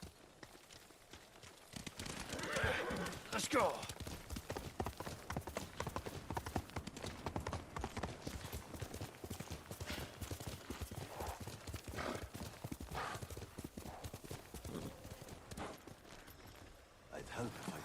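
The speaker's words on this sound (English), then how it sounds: "Gotta love instant cast horses." Hoofbeats of a horse galloping in the samurai video game Ghost of Tsushima, a steady rapid clip-clop running throughout under game dialogue and voices, with a brief neigh near the start.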